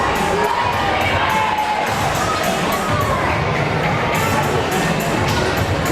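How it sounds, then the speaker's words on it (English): Boisterous, passionate crowd cheering Wolverines fans on at a high school volleyball match against the Hibbing Bluejackets, dense roar of shouts and yells sustained throughout with occasional thumps. "Just an outstanding, passionate atmosphere cheering on the Wolverines"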